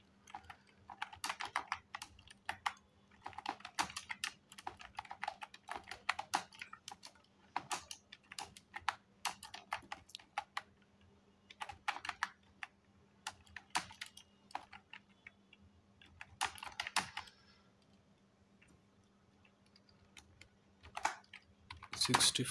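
Keys clatter on a computer keyboard in quick bursts of rapid taps separated by short pauses, close and fairly quiet over a faint steady hum.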